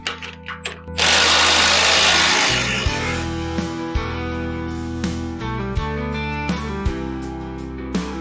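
A power tool, likely an impact driver, tightens bolts on an Auger Torque trencher: a loud close whirring burst, then a run of rhythmic hammering pulses.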